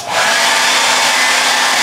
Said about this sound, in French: Sèche-cheveux de Marie. Puissance 2